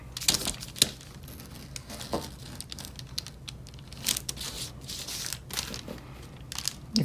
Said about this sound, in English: So you can get a clean cut with your X-Acto knife.